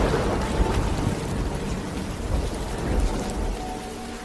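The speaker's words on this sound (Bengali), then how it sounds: "ঠিক তখনই বিকট আওয়াজে দূরে কোথাও যেন বাজ পড়ল।" Steady heavy rain pours down with thunder rumbling beneath it, a dense continuous wash of stormy sound with no voices, used as an effect in a rural Bengali horror story set on a flood night.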